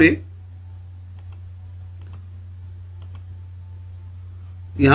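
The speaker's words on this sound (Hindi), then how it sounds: "यहां पे माउस रखा बेटा, माउस को राइट क्लिक किया" A computer mouse right-clicked during a Windows printer tutorial, a few faint, soft clicks spaced apart over a steady low electrical hum, with a voice speaking briefly at the start and end.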